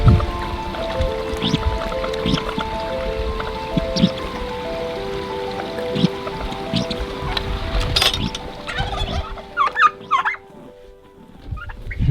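Turkeys gobble repeatedly in a busy farmyard, their calls bursting out loud and close over a steady background of other birds and low rumbling noise.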